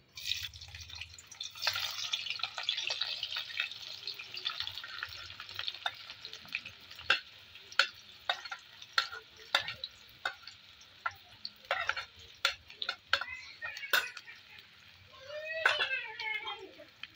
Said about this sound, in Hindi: ऑयल हमारा गर्म हो चुका है। अब इसमें हम प्याज शामिल करेंगे।